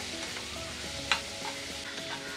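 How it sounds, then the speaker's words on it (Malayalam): Onions and curry leaves sizzle in oil left over from frying dried mackerel, a steady close hiss of frying with a brief stirring scrape partway through and no talking. "ഈ മീനിൻ്റെ നമ്മൾ വറുത്ത ഈ ഒരു എണ്ണയിൽ തന്നെ കിടന്ന് ഇതിനെ ഒന്ന് നന്നായിട്ട് മൂപ്പിച്ചെടുക്കാം"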